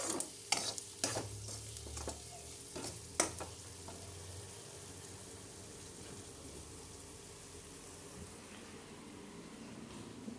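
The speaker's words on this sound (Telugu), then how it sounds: "ఇందాక మనం టమాటో గ్రేవీ మిక్సీ పట్టాం కదా, అది కూడా ప్యూరీ ఇందులో వేసేసుకుందాము" Tomato puree goes into a pan of paneer curry, with several sharp spoon clanks and scraping stirs early on, then a soft, steady sizzle that continues quietly on its own.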